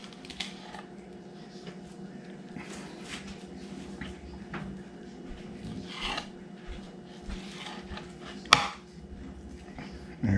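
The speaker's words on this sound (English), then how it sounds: "cut your pin bones out" Knife cutting pin bones out of a mackerel fillet, soft intermittent slicing and scraping strokes on a board, quiet, with one sharp knock near the end.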